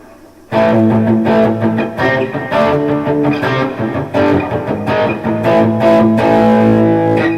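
A distorted electric guitar, a Gibson SG through a Boss Katana 100-watt amp with overdrive, analog delay and spring reverb, plays sustained chords and riffs with a smeared, echoing tail, loud and steady throughout with no talking.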